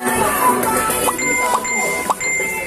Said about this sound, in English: don't forget to click the notification bell!